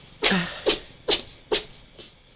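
A cat sneezes five times in a quick, evenly spaced series, each a sharp breathy burst, close by with no talking.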